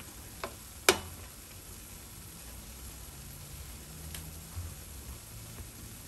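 Bamieh dough fries in oil with a faint, steady hiss, broken by a sharp metallic clink near the start and a few soft utensil taps.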